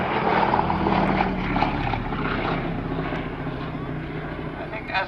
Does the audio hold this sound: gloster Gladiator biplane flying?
yes